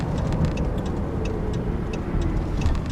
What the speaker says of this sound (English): You can see the acceleration's pretty strong, and the V6 makes a pretty nice sound.